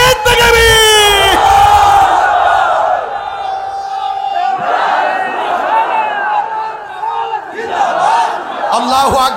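A huge crowd at an Islamic religious gathering in Doyabhanga, Shahrasti roars Allahu Akbar in unison after a takbir call, a loud sustained massed shout that swells, dips, then rises again in fresh waves of voices.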